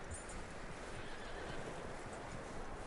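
A horse in the Red Dead Redemption 2 video game whinnies over a steady, dense wash of game ambience, loud and close, with hooves shuffling underneath and no speech.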